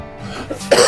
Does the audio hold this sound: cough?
yes